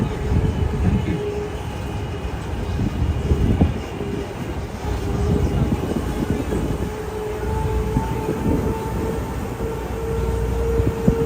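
Disneyland tram rolling along, a steady close rumble with faint rattling and a low hum throughout, no talk.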